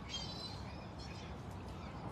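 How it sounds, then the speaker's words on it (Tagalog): Birds chirp faintly in a garden: a few thin, high twitters near the start over a quiet, steady background, with no talking. "Daming mga ibon dito."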